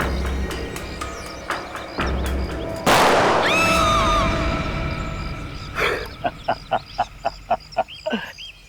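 An explosion goes off near a jungle cliff: a single loud, sudden blast with a long ringing, fading tail, followed by sharp rhythmic dramatic hits.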